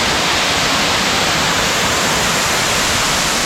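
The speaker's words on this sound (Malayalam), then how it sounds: "വെള്ളച്ചാട്ടത്തിൻ്റെ കിടിലൻ വ്യൂ ആണ്." A waterfall near Anakkulam in Mankulam, Munnar, gives a steady, loud, broadband rush of falling water that holds constant and unbroken throughout, with no voices.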